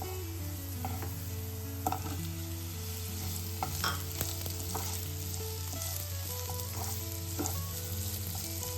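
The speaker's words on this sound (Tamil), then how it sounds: "இந்த வெங்காயம் கொஞ்சம் வதங்கட்டும்." Chopped onions sauté in a pan for a smoky paneer side dish, giving a constant close sizzle with occasional stirring clicks and scrapes and a low steady hum underneath, no talking.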